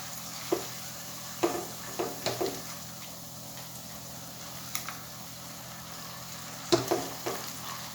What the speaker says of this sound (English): We will add the cinnamon stick, cloves, elaichi and black peppercorns. Give it a good mix.